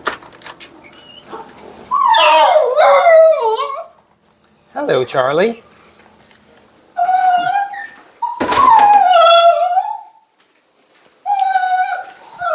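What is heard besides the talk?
dog whining and screaming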